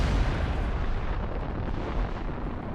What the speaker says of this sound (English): a monster made of 3 cannon barrels welded end to end and named the Pariser cannon